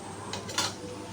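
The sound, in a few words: spatula stirring potatoes frying in a pan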